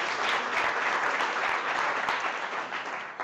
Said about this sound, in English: they totally deserve the biggest round of applause you could give them